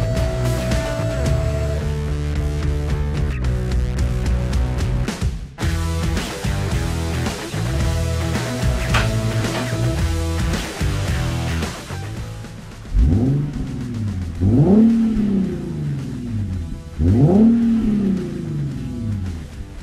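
A Chevrolet Malibu's engine revs in several rising and falling surges in the second half, over steady background music that plays throughout.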